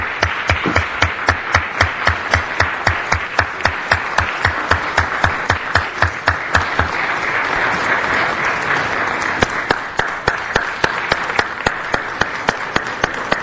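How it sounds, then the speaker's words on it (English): Applause fills a council chamber as the President of El Salvador is welcomed, starting as sharp individual claps and merging into a steady, sustained round from a seated audience that lasts throughout. "Please welcome him with a round of applause."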